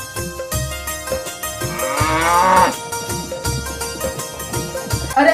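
A cow lowing, with a single drawn-out moo rising mid-clip over a steady rhythmic beat of music or percussion.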